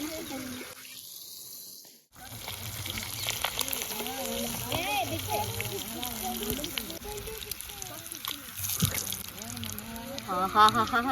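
Freshly caught river fish fry in a pan over a village cooking fire, a close, crackling sizzle that keeps going under intermittent voices and the clatter of cookware.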